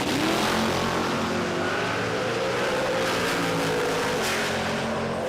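A drag racing car on a radial tyre launches at an Adelaide jamboree, its engine a loud, sustained roar that climbs steadily in pitch as it accelerates away, with no voices over it.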